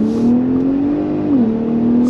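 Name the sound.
Ford F-150 Raptor truck accelerating from a dead stop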